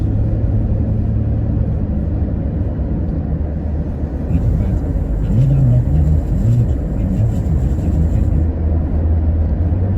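A car drives along the Enugu–Port Harcourt expressway, a road without lane markings, giving a loud, constant road rumble and engine drone from inside the vehicle. A faint high whine enters midway.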